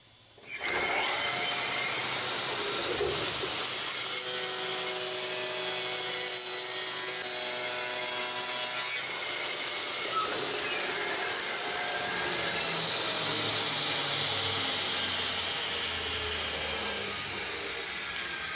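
A power tool whines steadily while trimming both ends of wooden boards in a woodworking shop, running loud and continuous for most of the stretch before slowly tapering near the end.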